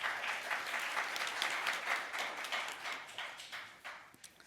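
A conference audience at a Korean guardianship meeting applauds to welcome a speaker to the stage, with sustained clapping that thins out and fades toward the end.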